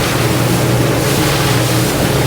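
A Sea Hunt motorboat cruises across open water toward the Exumas, its engine drone and rushing hull-and-wind noise loud, steady and unbroken, with no voices.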